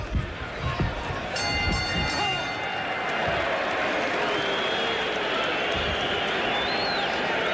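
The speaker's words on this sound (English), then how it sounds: "the crowd is applauding the courage of Steve Zalski as much as they're applauding the efforts of Mike Tyson" Crowd at a 1986 Mike Tyson boxing fight keeps up a dense, roaring wash of applause and cheering, loud and sustained, with a commentator talking over it and a brief bell-like ringing early on.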